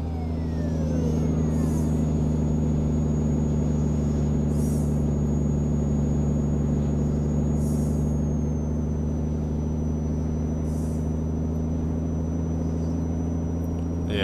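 A Kenworth Phantom truck engine in American Truck Simulator drones steadily and loud with a deep, constant rumble, cruising at an even pitch with a few faint hissing bursts and no talk.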